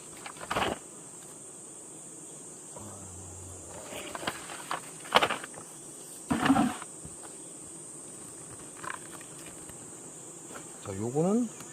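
Honeybees around an opened hive make a steady, high-pitched drone throughout, with bursts of nearby clatter and handling noises from the hive work breaking in now and then.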